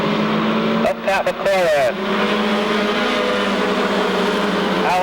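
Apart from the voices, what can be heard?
race trucks racing at Seekonk Speedway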